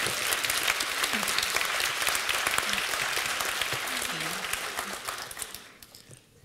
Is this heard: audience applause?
yes